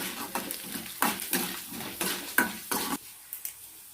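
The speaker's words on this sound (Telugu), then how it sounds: "మినప్పప్పు పచ్చెనగపప్పు దోరగా వేయించుకోవాలి" Urad dal and chana dal are dry-roasted in a pan, stirred with a utensil that scrapes in quick, rhythmic strokes, close and clear, over a faint sizzle.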